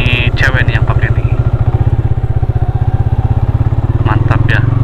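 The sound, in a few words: motorcycle riding ahead on a dirt track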